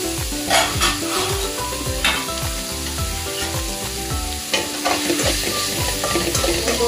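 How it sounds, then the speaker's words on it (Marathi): Paneer and cabbage pieces fry with a little salt in a kadai, giving a steady sizzle with stirring scrapes, partly masked by prominent background music throughout. "आणि पनीरचे तुकडे फ्राय करून घ्यायचं आहे।"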